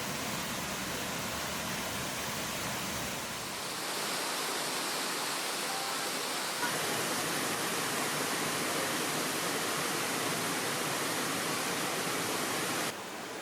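Steady, dense roar of falling water fills the whole clip, a broad constant rush from a nearby waterfall, Jantur Mapan in Indonesia, with no voices.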